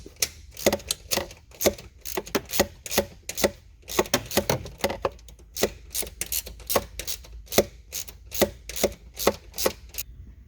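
A ratchet clicks in quick, irregular bursts while the supplied nut is tightened on an oil separator bracket of a 3.6L Charger, Challenger or 300C, heard close and crisp with short pauses between the runs.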